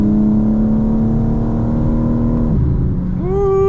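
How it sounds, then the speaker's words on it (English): A 2025 BMW M4 Competition xDrive engine drones steadily from inside the cabin on a night drive, then the exhaust burbles and the revs rise near the end. "A little bit of burble."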